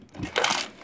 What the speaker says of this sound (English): let's put some coins in